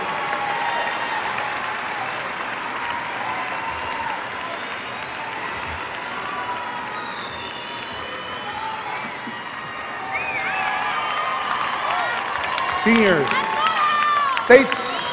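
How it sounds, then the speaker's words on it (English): A graduation crowd at a Cigarroa High School ceremony gives a long standing ovation, with steady applause and cheering that swells and holds across the whole stretch, a few whoops and shouts rising near the end. "give them a high five, or give them look for them, shake, standing ovation"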